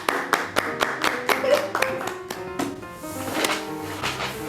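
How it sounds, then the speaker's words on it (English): Group of people clapping hands in a rough, uneven rhythm of sharp claps, close and fairly loud, with a sustained musical tone and some background voices around them. "Everybody clap your hands."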